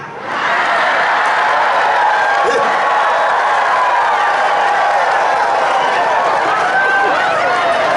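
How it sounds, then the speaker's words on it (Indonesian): A church congregation breaks into loud, sustained applause that fills the room evenly for several seconds, a dense wash of clapping with no voices standing out. "Ini tepuk tangan apa?"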